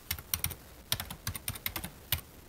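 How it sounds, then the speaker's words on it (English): Quick, uneven clatter of keys on a computer keyboard, close by, coming in short bursts with brief pauses and no voices. "And I'm typing with one hand."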